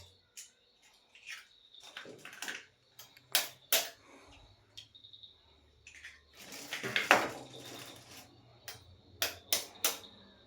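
Eggs cracked one after another for cooking, a series of sharp close taps and clicks with brief pauses between them, punctuated by light kitchen clatter.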